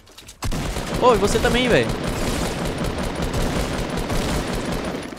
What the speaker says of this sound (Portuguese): De novo ele errou o tiro em mim.